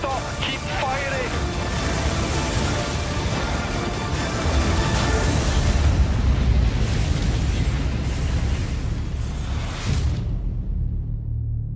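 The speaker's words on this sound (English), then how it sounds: "Everything on that mauler. Burn it. Fire! Don't stop. Keep firing." Sustained heavy weapons fire and booming blasts aimed at a Mauler ship in Star Citizen, a dense loud barrage rolling for about ten seconds before cutting off sharply, with voices talking over it.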